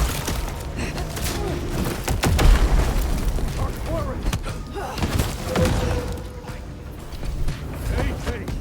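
Grenades going off in a video game: several muffled booms and thuds, one heavier blast near the middle, scattered through a busy mix with talking over it.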